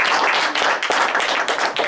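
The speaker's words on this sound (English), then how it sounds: "Let's give Linda a great big round of applause." An audience claps enthusiastically in a brief burst of dense, close applause, many hands beating together without a pause.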